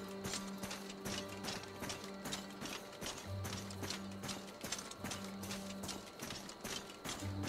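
Horse hooves clip-clop in steady, rapid rhythm in the Lost Eidolons video game, a continuous trotting patter running throughout over a droning game music bed.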